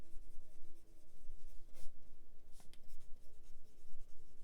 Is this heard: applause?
no